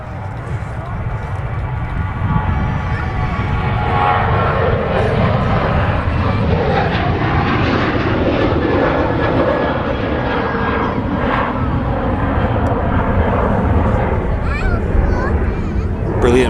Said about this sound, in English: Another Ryanair departing